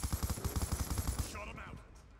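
Rapid automatic gunfire in a first-person shooter game, a quick burst of about a dozen close shots that cuts off into a short electronic in-game sound and radio-style voice.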